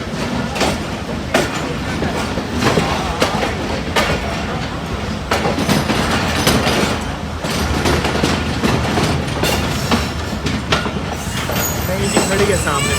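Chenab Express train pulling into Malakwal station, a continuous loud rumble with rattling wheels and clatter, broadband and close, with faint talk mixed in.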